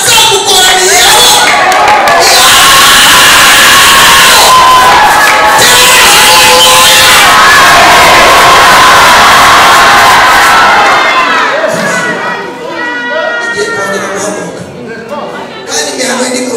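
A church congregation shouts and cheers loudly as one crowd for about eleven seconds. The roar then drops to scattered excited voices and cries.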